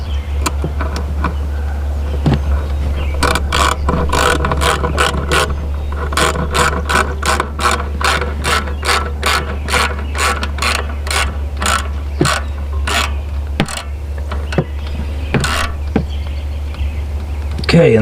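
Ratchet clicking while tightening a band clamp on a turbo air intake during a ZZP high-flow intake install, with rapid bursts of close, sharp clicks repeating over a steady low hum, some brief talk near the start.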